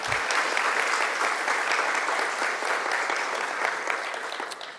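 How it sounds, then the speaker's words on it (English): Sustained audience applause at a panel event, a dense steady wash of many hands clapping at fairly close range, holding even for nearly five seconds with no talk over it. "Let's have another round of applause for Melissa."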